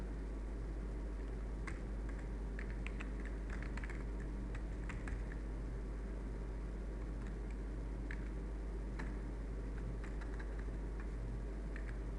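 Fingers tap out an email address on a computer keyboard, quiet, close keystrokes in uneven bursts over a low steady hum, clustering early and thinning out later.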